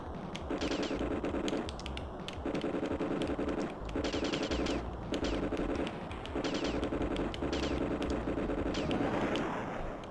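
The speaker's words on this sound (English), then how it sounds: "I'm gonna have to gun this last one down" Rapid aircraft machine gun fire from the SNES flight game Turn and Burn: No Fly Zone, steady stuttering bursts of about two seconds each with brief gaps, loud and close over a constant engine drone.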